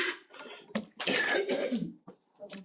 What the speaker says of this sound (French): si j'arrête de tousser